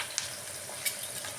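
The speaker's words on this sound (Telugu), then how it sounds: "ఇప్పుడు దీంట్లో కొద్దిగా కరివేపాకు వేసి పోపులు పెట్టుకున్నాను కదా" Curry leaves fry in hot tempering oil with a little asafoetida for a red chilli chutney, giving a faint, steady sizzle with a couple of tiny pops.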